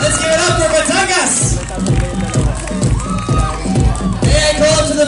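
A pageant crowd at Ginoong Pilipinas 2019 applauds and cheers for the Batangas contestant, loud sustained clapping with whoops and hubbub filling the whole stretch, voices mixed in.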